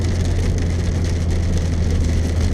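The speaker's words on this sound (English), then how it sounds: "So now I'm actually in a hailstorm." Hail drumming on a car driving through a hailstorm near Coolgardie, California, a dense steady patter over the low hum of the engine and road, with no talking.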